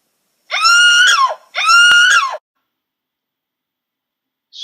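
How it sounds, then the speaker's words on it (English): Short scream sound file triggered by squeezing a jelly baby wired to a Python program: two loud, close, shrill screams in quick succession, then silence and the start of a third. "it plays a file called Scream MP3"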